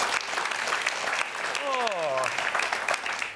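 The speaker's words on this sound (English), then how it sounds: "Round of applause, guys." Studio audience applause on a cooking show, continuous clapping heard close with a voice briefly speaking over it midway.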